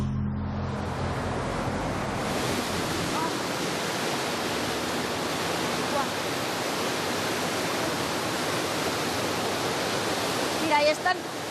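Sewage water rushes steadily through the Deusto siphon in Bilbao, a loud, dense broadband roar that fills the whole stretch, with a brief low rumble early on and a short clatter near the end.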